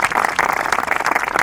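Audience applause at a studio talk show, a dense, steady patter of many hands clapping throughout, fairly loud with no one speaking over it.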